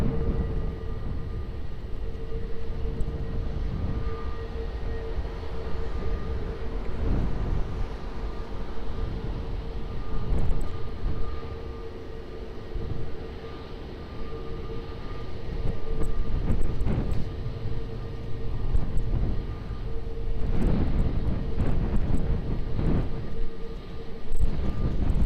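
A jet airliner lands on runway 20 at Lisbon Airport, a loud steady engine roar lasting throughout with broadband rumble and rising surges, heard from fairly close.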